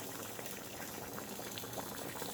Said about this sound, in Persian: آش ما جوشیده ایستاده است